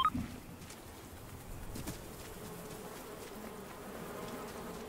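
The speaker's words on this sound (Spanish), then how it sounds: "Ten cuidado con las avispas." Wasps buzz in a Fortnite match, a faint, continuous insect drone hovering in the background with a few brief clicks and no voices.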